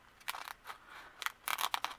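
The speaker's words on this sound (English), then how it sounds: "I'm going to use my scissors to cut around." A few quick, crisp snips of scissors cutting a paper sewing pattern, in short irregular bursts, close and fairly quiet.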